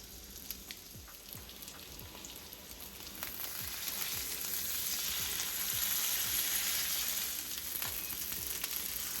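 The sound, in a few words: Kerrygold butter sizzling in a pan with olive oil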